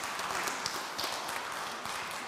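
A church congregation claps during a worship service, a soft, even patter of many hands heard from a distance for a couple of seconds.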